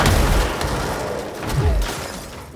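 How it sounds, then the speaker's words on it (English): Heavy booming blasts in the video game Control, a continuous loud rumble with deep low thuds swelling around the middle, no voices. "there's some explosions going on here"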